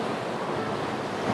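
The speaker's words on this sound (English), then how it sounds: "Whew, some good waves, man. Good waves here." Sea waves wash and churn around a sailing boat at sea, a steady, loud rushing surf mixed with wind buffeting the microphone, with no voices.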